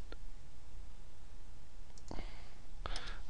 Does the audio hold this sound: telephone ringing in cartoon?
no